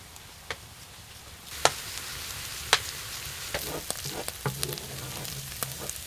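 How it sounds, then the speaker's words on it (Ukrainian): Onions frying in a pan for a Ukrainian dish, a steady soft sizzle with scattered crackles and pops, close and alone without talk. "Смажену цибулю можна в кінці приготування підсолити."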